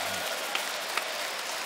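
A church congregation claps their hands together during a worship service, producing a steady, dense wash of many hands with no gaps, moderately loud throughout.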